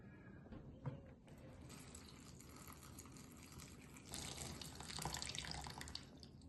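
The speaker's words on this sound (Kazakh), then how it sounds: "Мінекей мен суды құйып болдым." Water is poured over citrus peels to soak them, a faint steady splashing stream that grows a little fuller and louder toward the end, with no voices.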